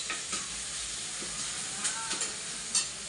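Onions fry in a pan, a quiet, hissing sizzle with a few soft clicks and stirring taps scattered through it, no one speaking.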